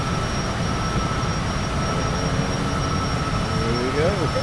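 A heavy airliner takes off in Microsoft Flight Simulator 2024, its steady, broad engine roar filling the clip at constant loudness while a faint rising whine sweeps up near the end.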